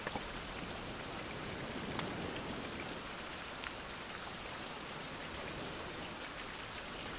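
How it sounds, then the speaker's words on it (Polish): Constant rain falling evenly on a surface in the video game Survival: Fountain of Youth, a steady hiss with faint scattered drops and no voices. "Deszcz. Deszcz."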